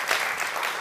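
A studio audience at a Georgian TV comedy game show claps in a brief, dense burst of applause.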